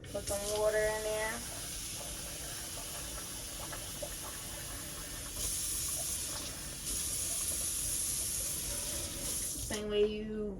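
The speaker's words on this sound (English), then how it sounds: "Put some water in there." Water is poured into a pot of already-washed rice, a steady hissing pour running at moderate level through most of the clip, with brief speech-like sounds at the start and end.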